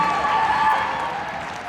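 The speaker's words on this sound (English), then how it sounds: "Let's give a big round of applause to all of our gymnasts" A crowd applauds the gymnasts at the close of the Wayzata vs. Hopkins Section 6AA gymnastics final, a brief burst of clapping and faint cheering in a large gym, fading slightly toward the end.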